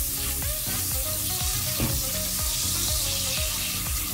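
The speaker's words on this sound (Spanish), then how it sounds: "La sal la revolvemos muy bien." Salt is stirred into hot oil in a pot for popcorn, giving a steady sizzle with rhythmic scraping strokes, close and continuous without speech.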